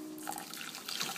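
Hot water poured into a bowl of green Jell-O powder, a steady splashing trickle of liquid running continuously for about a second with no talking.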